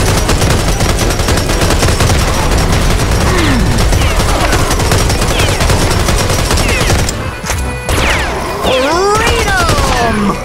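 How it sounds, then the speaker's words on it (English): Shotgun fire in the video game Serious Sam 4, loud dense blasts in rapid succession over chaotic combat noise, with a brief lull near the end and creature-like cries rising afterward. "Let me smite you with shotgun!"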